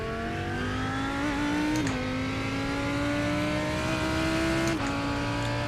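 A GT3 race car in iRacing at Sebring gives a sustained engine whine that climbs steadily in pitch as it accelerates. Two brief dips mark quick gear changes, and the sound stays loud and constant without any talk.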